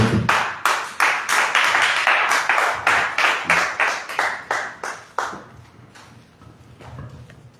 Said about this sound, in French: On acclame Jésus de Nazareth